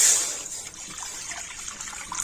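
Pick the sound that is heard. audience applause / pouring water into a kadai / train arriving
pouring water into a kadai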